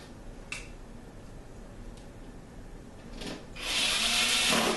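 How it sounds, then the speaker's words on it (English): A power drill whirs briefly near the end, driving screws into wood while assembling a storage cabinet, preceded by a few light clicks and taps from handling tools in a quiet room. "The drill is going to make it faster instead of just using a screwdriver."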